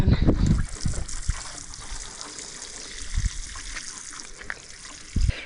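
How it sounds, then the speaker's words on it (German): Water from a rain barrel splashes and trickles onto garden plants, with a louder gush at the start and again near the end and a steady quieter dribble between. "Schauen wir mal, dass wir hier ein bisschen gießen können."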